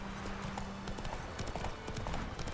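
A galloping horse in The Witcher 3 video game keeps up a fast, even clip-clop of hoofbeats throughout, close and clear over a light background hum.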